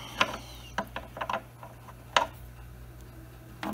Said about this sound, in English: So just backed off the nut.